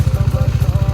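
A motorcycle idles close by, its engine thumping in a fast, even pulse with a loud low rumble and no voices over it.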